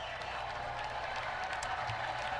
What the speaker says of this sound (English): The president at the podium receiving the last round of applause here before he gets underway.